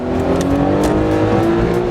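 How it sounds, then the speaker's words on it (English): A tiny right-hand-drive Japanese car drives along a Dallas road, its small engine holding a steady loud drone with a faint rising rev and road noise throughout, no talking. "Cruising in Dallas, just chilling in my little right-hand drive Japanese car."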